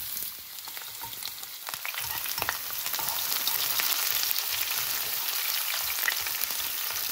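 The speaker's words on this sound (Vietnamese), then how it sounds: "rồi cho dầu ô liu," Garlic and onion fry in olive oil in a pan, giving a continuous crackling sizzle that grows slightly louder and denser after the first couple of seconds, close and steady with no talking.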